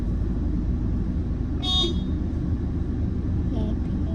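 A toy ride-on car horn gives one short, bright electronic beep over a steady low motor hum, followed by a fainter second beep a couple of seconds later.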